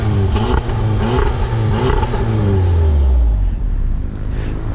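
An Audi TT S-Line with a GTI engine revs loudly up close, its tone climbing and then dropping off into a deep rumble, with no voices over it.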